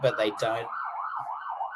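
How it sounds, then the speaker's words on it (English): A wailing siren passes outside, its pitch rising and falling in smooth sweeps. It comes in just after a short bit of talk and carries on clearly on its own. "I think that was just a siren."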